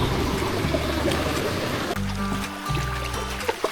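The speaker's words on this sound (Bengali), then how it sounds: "যেমন আমরা এখন পার হচ্ছি ঝরঝরিয়া ঝর্ণা" Rushing water from a waterfall stream on the Napittachora trail pours steadily for a couple of seconds, then a low droning hum takes over beneath it.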